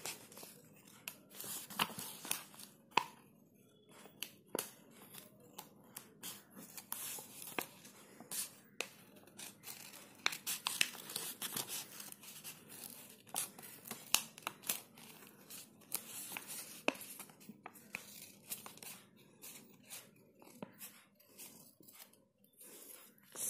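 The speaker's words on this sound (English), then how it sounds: "now I have taken that and cut it like this in the edge, like this." Scissors snipping around the edge of a paper cup, heard as a string of sharp close cuts with crinkling and rustling of the paper between them, quiet and without speech.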